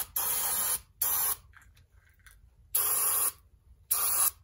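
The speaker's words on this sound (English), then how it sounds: "spray it off one more time" Short bursts of an aerosol cleaner spray a metal rod during an in-cab AFC control and spring upgrade, four loud hissing blasts separated by quiet gaps and faint handling noises.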